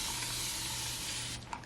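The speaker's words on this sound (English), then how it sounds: "So I'm gonna use my Tangle Teaser mist bottle" Tangle Teezer mist bottle spraying water onto curly hair, a steady, close, continuous hiss of fine spray that lasts nearly two seconds before it breaks into a few short puffs.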